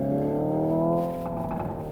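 Simulated engine burble from a Hyundai Ioniq 5N electric car's rear speakers while driving in manual mode at Laguna Seca, a steady droning, rising tone with layered harmonics, loud and continuous, no talking.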